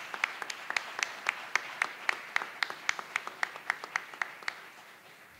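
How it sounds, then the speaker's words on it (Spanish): Audience applause at a university honorary doctorate ceremony in Rosario, heard as a series of sharp, distinct claps in a fairly even rhythm at moderate distance, thinning out and fading toward the end. "Fuerte el aplauso para él también."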